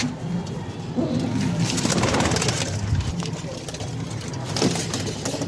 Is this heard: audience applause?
no